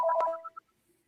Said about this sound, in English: I don't think that's my phone.